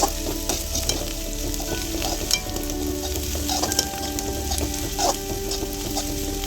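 Chopped beans sautéing in a hot pan for roadside-style egg noodles, a constant loud sizzle with occasional stirring scrapes over a low steady hum, close and without speech.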